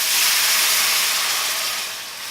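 Hot water poured into a Carbo fire noodle cup gives a steady, bright hiss with steam, loud and continuous for a couple of seconds before easing slightly, with no talking over it.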